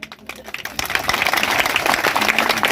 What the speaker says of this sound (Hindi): उनके लिए आप लोग एक बार जोरदार ताली बजाएंगे